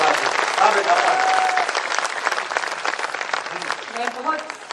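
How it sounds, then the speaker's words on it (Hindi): An audience at the Bhopal Utsav poetry gathering breaks into loud sustained applause, dense clapping filling the hall and tapering slightly toward the end, with a voice speaking over it. "एक बार जोरदार तालियां बजाकर आप इसे आशीर्वाद दें।"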